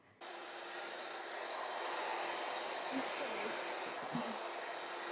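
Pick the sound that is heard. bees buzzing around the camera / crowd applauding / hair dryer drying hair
hair dryer drying hair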